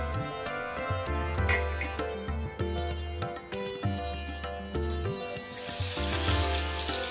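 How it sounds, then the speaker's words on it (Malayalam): Marinated fish fries in coconut oil in a pan, giving a dense, continuous sizzle under a steady tonal hum that grows hissier toward the end. "ആവശ്യത്തിനുള്ള വെളിച്ചെണ്ണ പാനിൽ ഒഴിച്ച് മീൻ നന്നായി വറുത്ത് കോരി എടുക്കുക"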